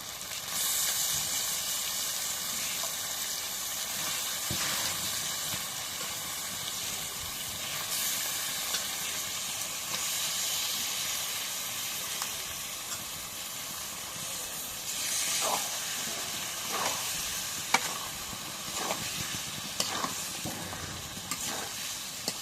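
Meat and drumsticks sizzle steadily in hot spiced oil while being sautéed, a continuous loud hiss with occasional scraping stirs toward the end.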